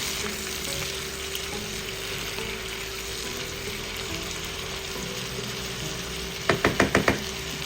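Sliced mushrooms fry in a pan with a steady, loud sizzle that runs throughout, and a quick run of sharp knocks near the end where a utensil stirs and taps against the pan.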